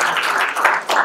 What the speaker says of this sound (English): I know y'all clapping because I was short.